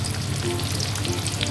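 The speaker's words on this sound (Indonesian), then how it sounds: "Ini saya tumis sebentar aja." Onion, then chili and tomato, sauté in reused chicken-frying oil in a pan, giving a close, continuous crackling sizzle with scattered pops and the scrape of stirring.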